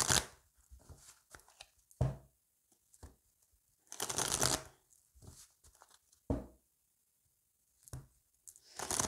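Oracle cards for a tarot-style reading shuffled in several separate bursts of crisp riffling and flicking, close and clear, separated by near-silent pauses.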